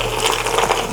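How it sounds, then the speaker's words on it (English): Thick cheese sauce folded into cooked pasta for hot honey mac and cheese, a close, steady wet squelching and sloshing that runs through the whole moment. "Now we're gonna fold in our cheese sauce until it sounds like this."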